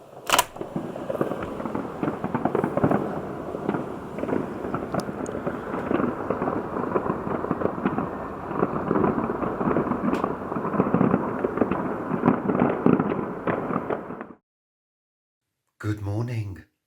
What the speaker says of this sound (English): I can't see any of the fireworks now, but I can hear them. I mean, it's a barrage.